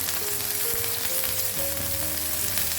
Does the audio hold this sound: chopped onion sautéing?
yes